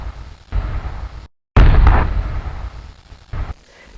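Cannon fire from British warships anchored in a harbor: a loud, booming blast that cuts out briefly then erupts with heavy low rumble, followed by fainter scattered reports trailing off.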